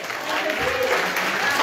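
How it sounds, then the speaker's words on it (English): A church congregation claps hands in praise, a dense, steady wash of applause filling the room, with a voice speaking over it. "let's give the Lord a hand clap of praise"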